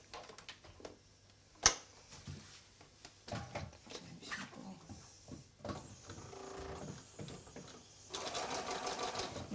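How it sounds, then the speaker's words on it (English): A home sewing machine stitching oilcloth for a tote bag runs in short bursts of rapid mechanical whirring, with a sharp click partway through and a louder steady run near the end. "fold it over, put it under your machine, and away you go"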